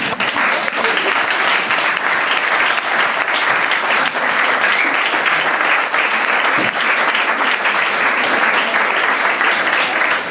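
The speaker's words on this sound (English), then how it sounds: "Thank you everyone for standing up and clapping." A large standing audience at a poetry event claps continuously and loudly, a dense, steady wash of applause that never lets up.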